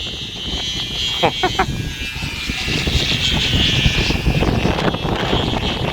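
Strong wind buffets the microphone outdoors during a Zumba session, a loud continuous low roaring rumble that swells toward the end while people talk over it.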